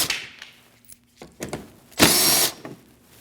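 Removing 8mm bolts from the inner wheel well of a 2014-2023 Jeep Cherokee: a few light clicks and handling knocks, then one loud half-second whir of a power driver, followed by quieter rattles.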